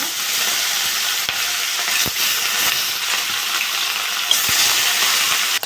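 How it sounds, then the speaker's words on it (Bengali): Rohu fish pieces fry in hot oil with a continuous bright hiss and crackle, broken by a few sharp ticks and clinks, and no talking. "বাকি মাছগুলো আমি একইভাবে ভেজে নেব।"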